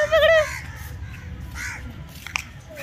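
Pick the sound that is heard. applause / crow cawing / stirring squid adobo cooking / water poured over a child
crow cawing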